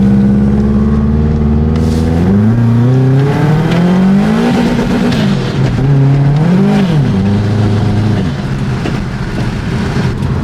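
A Nissan S13.5 with an SR20DET engine and automatic transmission revs hard on a test drive, its loud engine note climbing, dipping and climbing again as it accelerates continuously without a shift.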